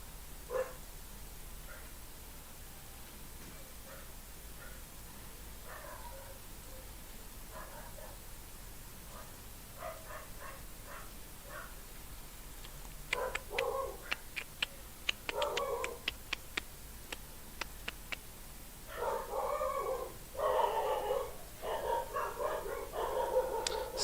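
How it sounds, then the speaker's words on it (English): Several dogs barking in bursts somewhere in a house, with scattered yaps and whimpers that grow busier and louder toward the end over a steady background hiss. "Sorry about my dogs."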